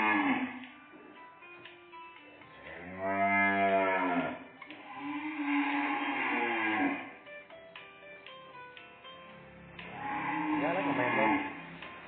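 Nine-month-old cattle in a sale lot at a Vietnamese cattle trader's farm moo twice, one drawn-out moo near the start and another near the end, fairly close, with someone talking between and around them.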